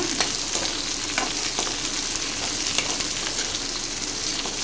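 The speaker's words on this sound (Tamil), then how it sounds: "சேர்த்து அந்த எண்ணெயிலேயே நல்லா வதக்கி விட்டுக்குங்க" Cowpea pods sautéing in oil in a pan make a steady, close sizzle with occasional soft stirring clicks, heard alone without talk.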